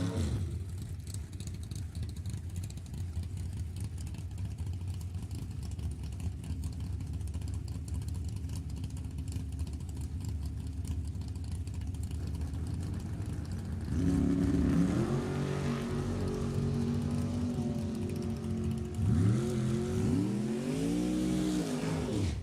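Drag race cars at Sacramento Raceway Park idle with a rough rumble, then roar as they launch and accelerate hard, engine pitch sweeping upward loudly, with a second rising burst near the end.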